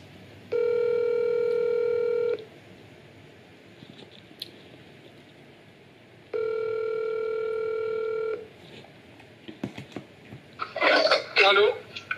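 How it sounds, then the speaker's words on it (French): A telephone is dialed to place a call: two long steady tones a few seconds apart, then a faint quick series of keypad beeps, with a brief cough or throat clearing in between. "Je vais appeler Flo, il est 18 h, il est pas là"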